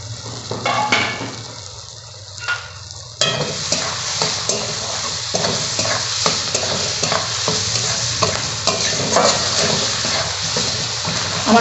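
Rohu fish seasoned with salt, chili powder and turmeric sizzles as it is stirred and sautéed in a pan, a steady close frying hiss with scraping stir strokes and occasional utensil clinks, growing louder after a few seconds.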